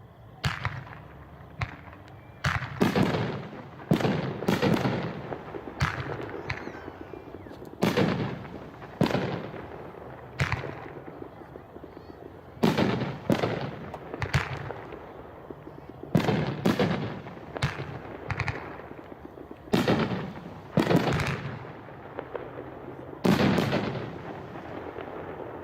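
An Eyes on Me 9-shot, 500-gram fireworks cake fires at an outdoor demo: a string of loud, sharp booms and cracking bursts spread across the clip, each followed by a short echoing tail.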